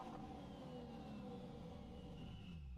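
A car engine revs steadily and loud, a sustained mid-range drone with a high whine running through it, heard on its own without talk.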